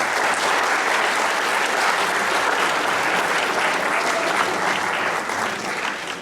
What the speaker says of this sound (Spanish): Creo que merecen ustedes dos un aplauso